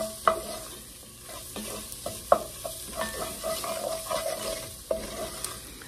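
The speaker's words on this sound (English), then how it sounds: "We're gonna stir this until the tomato paste coats all the veggies." Vegetables and tomato paste stirred in a hot pan, with a steady soft sizzle under repeated scraping strokes of the spoon and a few sharper knocks against the pan, close by and with no talking.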